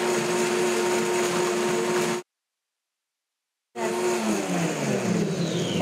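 A Hawaiian ice shaving machine whirs loudly and continuously as it shaves ice for frozen margaritas, cutting out briefly before starting again with a rising, grinding hum.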